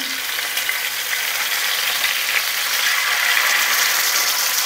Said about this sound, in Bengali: এভাবে ঘুরিয়ে ফিরিয়ে আমরা চিকেনগুলো ভাজবো।